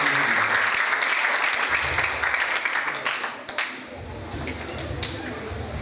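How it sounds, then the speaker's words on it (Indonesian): Audience applause at a school arts performance celebrating a 31st anniversary, dense clapping filling the room loudly, then thinning and fading toward the end. "beri tepuk tangan sekali lagi"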